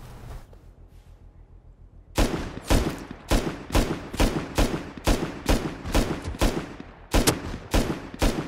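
Gunshots in a survival video game, about a dozen loud, evenly spaced single shots in a steady rhythm after a quiet opening, each crack sharp and close.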